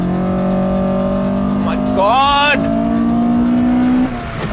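A Toyota Corolla RSi with a 20-valve engine revving hard toward 9,000 RPM from inside the cabin, a steady high engine drone with a brief squealing sweep of rising and falling pitch midway, and an excited voice exclaiming over it.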